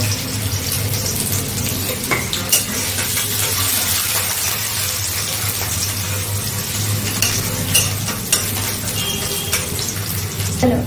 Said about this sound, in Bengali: এই যে আদা রসুন যে আছে কুচি কুচি করে নিয়েছিলাম, ওগুলো আগে দিয়ে দেবো। এটা আগে একটু ফ্রাই করে নেব।